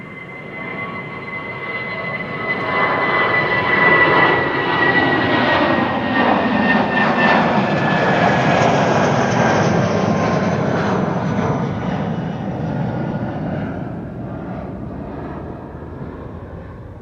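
A 21-year-old airliner, first flown in September 2004, roars past at Amsterdam Schiphol Airport, a loud, sustained engine rumble and whine that swells, holds, and slowly fades as it moves away.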